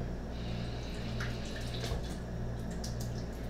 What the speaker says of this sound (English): I'm actually going to rinse them now